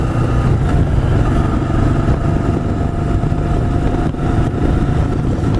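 A 1985 Yamaha Virago motorcycle rides along back roads in East Hampton, NY, its engine a loud, steady close-up drone with wind rush and no talk.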